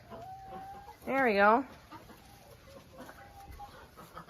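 A backyard chicken gives a short burst of clucking, a single rapid call lasting about half a second amid quiet outdoor ambience, with a person speaking briefly.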